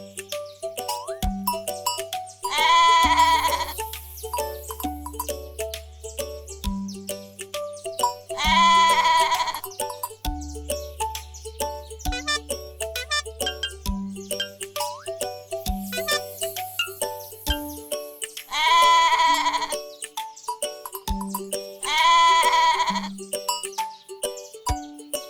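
A goat on a farm bleats in several loud, drawn-out calls, spaced several seconds apart over a soft, repeating musical backing with light chimes.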